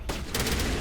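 Rapid bursts of weapon fire in the video game Mass Effect 1, a quick cracking volley of shots that starts abruptly and rattles on densely, loud and close with no talking.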